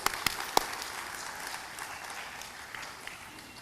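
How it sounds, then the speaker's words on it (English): Steady applause from an audience at an Indian Arrival Day celebration in Trinidad and Tobago, a dense patter of many hands clapping, with a few sharp individual claps standing out near the start. "Round of applause."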